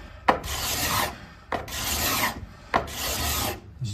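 A hand tool shaves hardened epoxy off the hull of a teardrop camper, producing three raspy scraping strokes, each starting with a sharp catch and lasting about half a second to a second, close and fairly loud.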